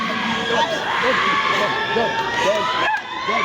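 A church crowd at a prophetic deliverance service in the Pavillon Baltard lets out loud, overlapping cries and shouts. The roar of voices is steady and close, with rising wails repeating throughout.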